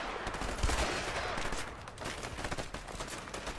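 Gunfire in the A Way Out video game: a fairly faint, rapid string of shots crackling from a distance, growing denser and more rattling toward the end, with a little background noise.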